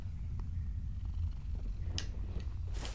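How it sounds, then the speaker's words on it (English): A cat being petted in the dark fantasy game Mortal Shell purrs in a steady, loud, low rumble close up, with faint rustling over it near the end. "Let's pet the cat."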